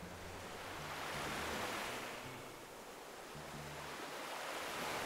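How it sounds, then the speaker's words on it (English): Soft, continuous surf washing in and out, a broad hiss that swells and eases gently, heard faintly from a distance with some low wind rumble. "Listen to the waves."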